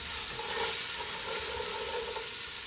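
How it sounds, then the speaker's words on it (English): Carrots and onions sautéing in a pot give off a continuous bright sizzle and hiss, steady and close, with faint stirring textures underneath and no talking. "carrots and onions going in the pot. We're going to saute these"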